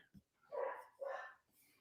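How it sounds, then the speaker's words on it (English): Pet dogs barking indoors in a home, two moderately loud barks in quick succession, close by. "Oh no, my dogs are going off."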